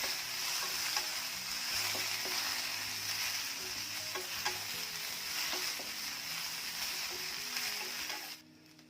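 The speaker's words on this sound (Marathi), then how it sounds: "भेंडी छान आधी भाजून घेऊया" Okra (bhindi) pan-roasting in oil for a quick tiffin vegetable dish gives a steady, close sizzle with occasional stirring clicks and scrapes, then cuts off abruptly near the end.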